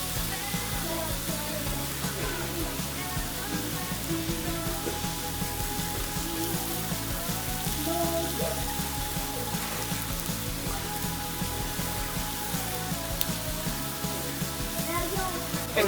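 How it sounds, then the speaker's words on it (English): Burgers sizzle on a very hot Blackstone griddle, pressed down with a hot press, giving a steady, even, fairly quiet hiss with faint crackle and no break. "I believe it's cooking on the top side with the heat of the griddle, because this is very hot."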